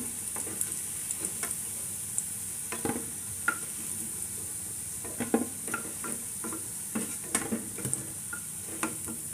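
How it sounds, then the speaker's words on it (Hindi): Jackfruit koftas frying in hot oil, a steady sizzle and hiss with scattered pops and light ticks from stirring, close and moderately loud, no talk. "और दोनों तरफ से ये लाल होने तक अच्छे से इसको फ्राई करना है।"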